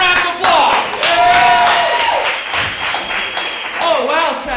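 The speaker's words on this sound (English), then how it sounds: "Give them a round of applause" Audience applause at a lively stage show, dense clapping with mixed voices and cheers sustained throughout, loud and close.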